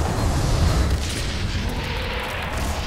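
Heavy booming explosions in the video game F.E.A.R. 3 rumble loudly, a deep burst up front fading into a sustained roar of blasts.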